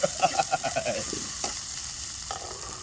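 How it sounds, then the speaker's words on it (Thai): Meat stir-fried with basil sauce in a hot pan, a steady loud sizzle with rhythmic scraping and tossing strokes in the first second, then continuous frying with occasional stirring clatter. "เดี๋ยวคั่วแป๊บนึง"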